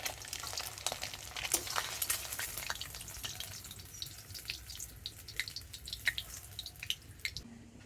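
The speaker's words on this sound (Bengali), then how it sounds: "ডিমটা এরকম হালকা করে একটু ভেজে নিতে হবে" Eggs frying lightly in oil in a pan, a soft steady sizzle with crackly pops and drips, close and quiet.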